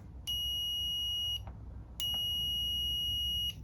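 A digital multimeter gives two sharp, high electronic continuity beeps as its probes are touched together, each tone held a little over a second with a short gap between, over a low background hum.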